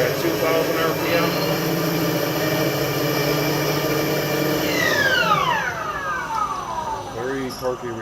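A 1996 Nardini lathe spindle runs up to 2,000 RPM, a steady mechanical whine with rising tones that then sweep downward as it slows. Someone speaks over the machine.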